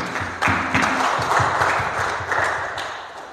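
A church congregation applauds during a Sunday service, a loud, close wash of many hands clapping with a rhythmic beat running underneath that swells and eases.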